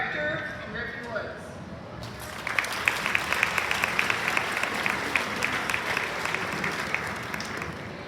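An awards-day ceremony audience claps for a student group, the sustained applause starting after a moment of talk and continuing as an even, crowded patter of many hands.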